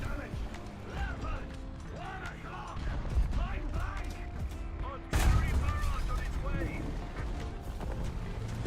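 Gunfire in a chaotic arcade-style video game: rapid cracks and mechanical clatter over a dense, busy game soundscape, growing louder and heavier toward the end.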